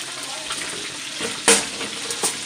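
Breaded chicken cutlets for chicken parmigiana frying in a pan, a continuous close sizzle with a couple of sharper crackles and clatters near the end, no voices over it.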